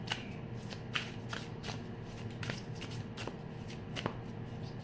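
Tarot cards riffled and shuffled by hand in steady bursts, with soft sharp flicks as individual cards are drawn and laid down, over a low background hum.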